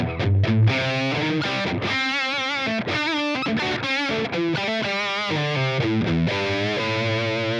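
Distorted electric guitar through a Line 6 Helix amp modeler with all template blocks off, playing a continuous riff of chords and single notes, loud and dry, with no talking.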